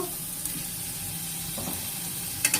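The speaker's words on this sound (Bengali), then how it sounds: "এই যে আমার আলুটা লাল লাল করে ভাজা হয়ে গেছে" Potatoes frying in oil give a soft, steady sizzle at moderate level, with a couple of faint clinks near the end and no talking.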